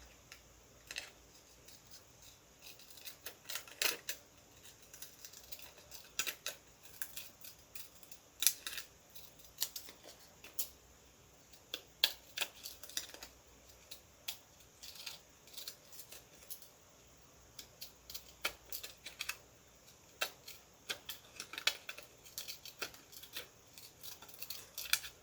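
Intermittent snipping of scissors through paper, short crisp cuts in irregular bursts with quiet pauses between them, close and fairly faint.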